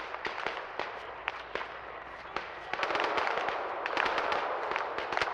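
Distant gunfire in the ArmA/DayZ Chernarus siege of Chernogorsk, sharp scattered cracks and short bursts over a steady outdoor rumble that grows denser and louder partway through.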